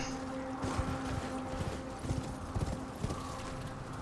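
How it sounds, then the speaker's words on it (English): A horse gallops in the video game Elden Ring, its hooves beating a quick, steady rhythm up close across a constant, loud backdrop with no talk. "Back on the horse."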